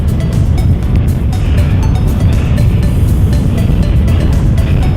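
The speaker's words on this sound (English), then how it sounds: "the wind has really picked up now" Strong wind buffets a beach in a continuous loud roar of low rumbling gusts, steady throughout with no clear voices.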